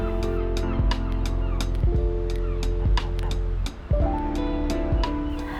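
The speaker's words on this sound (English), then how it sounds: "And the geese, the Whitehaven geese." Whitehaven geese honk and call again and again beside the water, a loud flock of overlapping cries with splashing behind it.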